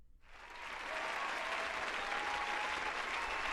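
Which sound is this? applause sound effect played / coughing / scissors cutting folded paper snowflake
applause sound effect played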